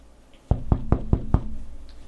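Five sharp, evenly spaced knocks on a door ring out loud and close as a radio theater sound effect, following a brief near-silent pause.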